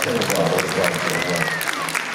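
Audience applause at a Supernatural fan convention panel in Vancouver, brief and moderately loud, a steady wash of clapping with faint voices and cheers mixed in.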